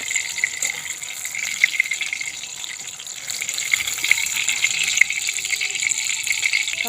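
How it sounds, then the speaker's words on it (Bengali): Fried pointed gourd pieces come up out of hot oil on a slotted spoon, setting off a steady crackling sizzle with small spiky pops as the oil drains off. "খুব সহজেই ছানটা দিয়ে পটলগুলো আমি তেল থেকে তুলে নেব। তেলটা একটু ঝরিয়ে নিচ্ছি।"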